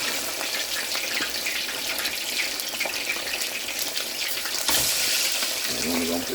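Red snapper frying in hot oil, a dense continuous crackling sizzle with bubbling, a burst of louder spitting near the end as more fish goes in.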